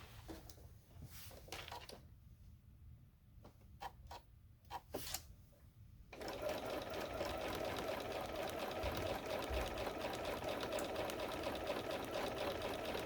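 A sewing machine chain-pieces quilt half square triangles, opening with scattered needle clicks and short bursts, then running in a continuous close, steady whir for the rest of the clip.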